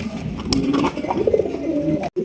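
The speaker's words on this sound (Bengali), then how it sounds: "দর্শক, এখানে রয়েছে একটা রেসার কবুতর" A large racer pigeon coos at close range in a bird-selling setting, giving a series of soft throaty rolling calls that end in a brief silence.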